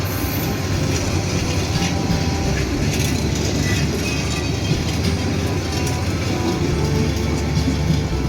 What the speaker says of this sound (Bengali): এই মুহূর্তে আজিমনগর রেলওয়ে স্টেশন 1 নম্বর লাইন থেকে ঢাকা অভিমুখে ছেড়ে যাচ্ছে লালমনি এক্সপ্রেস